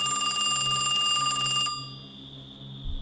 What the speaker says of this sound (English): he gets a phone call